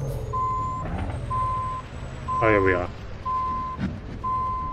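A truck in a farming scene gives off steady, evenly spaced reversing beeps, loud and close, with engine rumble and an air-brake hiss partway through while someone talks over it.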